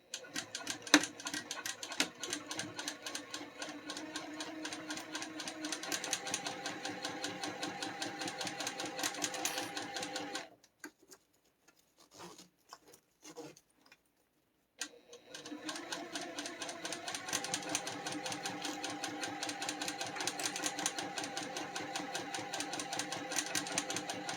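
A sewing machine runs along a seam in rapid, even stitching bursts, stops for a few seconds with only faint handling noises, then starts again and stitches steadily to the end, close and clear.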